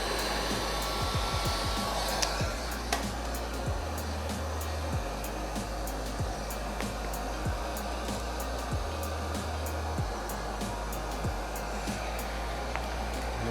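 Heat gun warming vinyl wrap so it shrinks around a car's side skirts: a continuous loud blower hiss and hum with a few faint clicks and handling knocks, and no talking.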